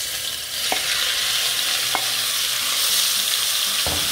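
Minced meat fries in a pan with a constant loud sizzle, broken by a few sharp clicks of a utensil against the pan.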